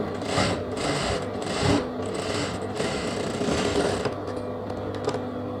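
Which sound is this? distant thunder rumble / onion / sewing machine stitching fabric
sewing machine stitching fabric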